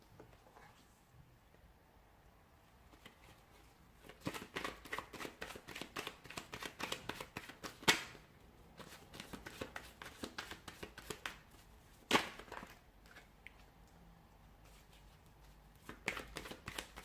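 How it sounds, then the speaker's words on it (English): Tarot cards being shuffled by hand, a soft rapid riffling and flicking of card stock that comes in long, steady runs with a few sharper snaps, quiet and close with no voice. "Cards are just flying out."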